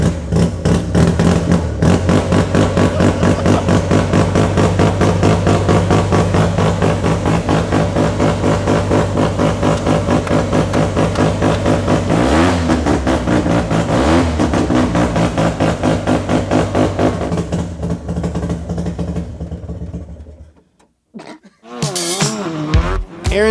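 A Mazda RX-7 FD drift car with a tubular chassis runs loud and close, its engine holding a rough, pulsing idle with a couple of rev swells before cutting out near the end, followed by brief, fluttering restart noise.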